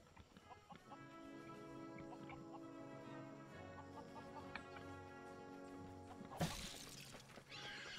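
Farm animals in the video game Lego Worlds make cartoonish calls, with clucking and a whinny-like cry over a quiet melodic music bed. A sudden noisy burst breaks in late, and the whole passage stays faint.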